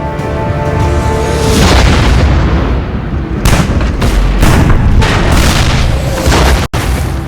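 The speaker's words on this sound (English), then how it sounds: "Soviet artillery begins to shell Berlin on April 20th, the birthday of Adolf Hitler" Soviet artillery shells Berlin in a loud, continuous rumble of deep booms and blasts that roll over one another, dense and overpowering, with no voices heard.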